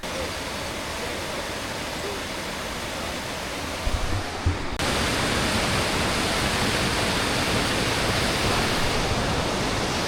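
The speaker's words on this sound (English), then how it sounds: "They're pretty good, these waterfalls." Waterfall on the West Highland Way in Scotland: a steady broadband roar of falling water, which grows abruptly louder and fuller about halfway through and stays constant after that.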